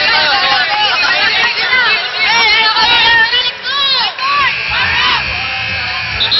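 A loud crowd at a volleyball match in San Juan Arena cheers and shouts continuously, high excited voices and screams swelling in waves close by.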